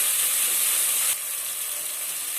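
Finely chopped tomatoes hit a hot pan with ginger and garlic, setting off a loud, steady hiss of sizzling that dips slightly in intensity about halfway through and carries on evenly.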